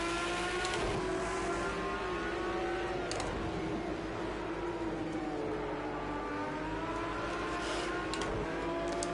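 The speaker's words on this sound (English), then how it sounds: "Oh yeah, I forgot Porsches have amazing starts." Porsche engine in a racing video game revs and drones steadily as the car accelerates off the start, a loud sustained whine with rising harmonics and no talk over it.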